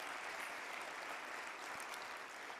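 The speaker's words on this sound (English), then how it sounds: "Can we give him another round of applause for being such an amazing host?" An audience at an annual celebration gala gives the host a round of applause, a dense, even wash of clapping that holds steady throughout, somewhat distant and soft.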